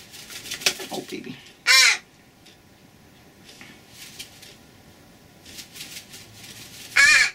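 Two loud, harsh crow caws ring out close by, one near the start and one at the end, with quieter bird calls and faint talking from people in between.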